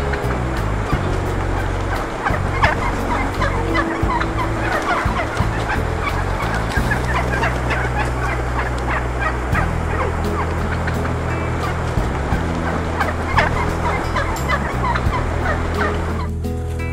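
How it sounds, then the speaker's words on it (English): A flock of wild turkeys gobbles loudly and constantly, overlapping calls close by over a steady background rumble. "Turkeys gobble gobble like crazy and land right next to my feet"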